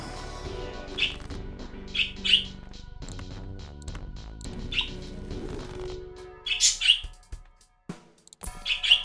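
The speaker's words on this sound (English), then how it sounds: "Listen to the birds." Birds chirping and tweeting in short bright bursts, several scattered calls that grow busier and louder toward the end, over a low background bed of sound with no talk.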